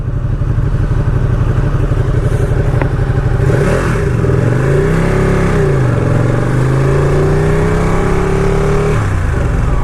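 Ducati Panigale 959 Corse sport motorcycle, a 2018 model, being ridden: a loud, steady engine drone throughout with rising and falling revs around the middle as the rider shifts and accelerates, with no talking.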